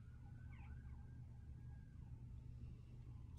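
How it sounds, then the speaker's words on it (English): Sirens wail faintly in the distance, their wavering tones drifting over a steady low rumble of traffic. "I can hear the sirens outside"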